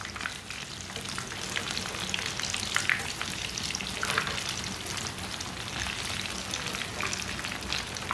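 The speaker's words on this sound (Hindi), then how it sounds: "आप देख सकते हैं दोनों साइड से ब्रेड हमारे फ्राई हो चुके हैं" Bread fries in a pan with a steady, close sizzle and crackle of hot oil that holds even and continuous throughout, with no voices.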